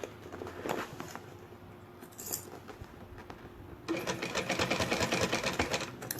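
A sewing machine stitches a sublimation-printed bag with a continuous close whirring hum, quieter at first, then louder and more rapid in the last couple of seconds, with light metallic jingles and handling taps.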